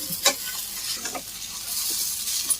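Beetroot and chana dal stir-fry with chili powder being mixed in a pan: close, scraping stir strokes over a steady background sizzle, with a sharper clatter near the start and near the end.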